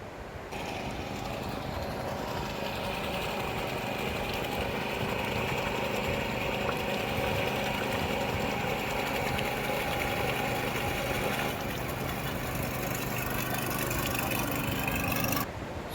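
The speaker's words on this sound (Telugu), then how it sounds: "ఇక్కడ హ్యాండ్ మెషిన్తో ఎలాగైతే దుక్కు దున్నుతారనేది మనం ఇప్పుడు చూడొచ్చు" A hand tractor runs continuously while ploughing a flooded paddy field, its engine droning in a steady, loud, close buzz with a constant pitch and no pauses.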